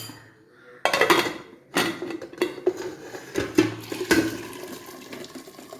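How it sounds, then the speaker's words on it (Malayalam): Water is poured off boiled dried tapioca in a kitchen, a loud gushing splash over metal pot clatter and knocks, close by, easing into a steady trickle. "വെള്ളം ഊറ്റിക്കളയാം."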